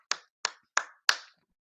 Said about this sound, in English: I guess we can clap our hands for that.